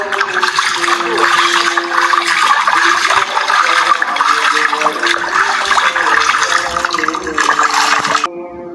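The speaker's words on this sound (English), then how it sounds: "I want to wash them real quick. I'll rinse them" Running water pours steadily as fresh tilapia fish are rinsed, a continuous loud splashing gush close by with a faint tonal hum underneath, lasting several seconds before quieting.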